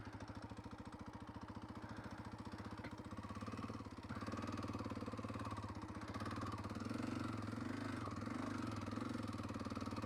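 A 2025 Kawasaki KLX230R single-cylinder dirt bike engine chugs at low revs on a trail with a rapid steady thump, rising slightly as the throttle opens a bit, close and fairly loud.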